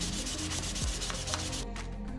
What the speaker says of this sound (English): Switching to 400 grit, sand until the part feels and looks completely smooth.